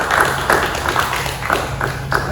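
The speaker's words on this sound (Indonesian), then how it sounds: "tepuk tangan dulu" An audience claps along at a podcast gathering in Yogyakarta, with steady, fairly loud bursts arriving about twice a second that keep a rhythmic beat.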